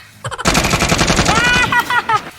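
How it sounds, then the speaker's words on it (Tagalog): Rapid gunfire from a comedy skit: a long, loud, close burst of shots that ends in a few separate cracks, with a voice shouting over it. "Barilin mo, Nyok."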